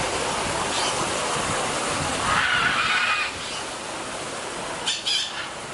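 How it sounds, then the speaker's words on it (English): Several birds squawk in short, scattered bursts over a steady rushing background noise, the calls coming faintly and intermittently rather than in a regular rhythm. "There's a bunch of birds."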